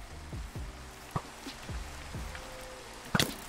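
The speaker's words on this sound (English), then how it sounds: "And now it's raining, yay." Rain in the Minecraft video game, soft scattered patter with low thumping game sounds and a brief sharp burst near the end.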